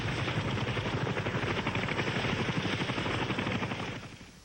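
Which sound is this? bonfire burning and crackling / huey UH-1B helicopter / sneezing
huey UH-1B helicopter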